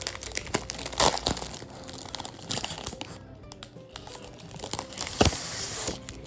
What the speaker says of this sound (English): I am opening this box for the first time with you.